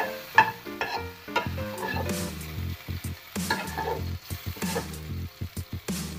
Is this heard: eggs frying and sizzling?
yes